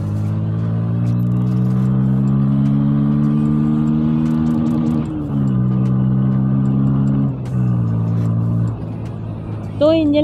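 A Bajaj Pulsar N160 motorcycle engine revs steadily while being ridden, holding a loud, sustained drone that dips briefly around gear changes and climbs again, with a short higher whine at the end.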